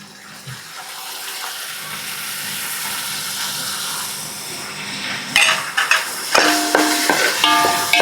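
A ground paste of five tomatoes, two onions, ginger and garlic goes into a hot pan for chicken gravy. Loud hissing hits, then crackling spatters and a few stirring clinks follow.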